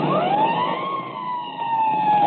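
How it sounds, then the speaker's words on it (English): A police car siren in an old-time Boston Blackie radio drama wails steadily and loudly, rising into a long sustained howl that carries close and unbroken, with no voices over it. "I'll give the siren all the way."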